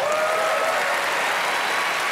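Canned applause sound effect played on a biathlon podcast to welcome a guest, a steady, dense crowd clapping texture at even loudness throughout, with no speech on top.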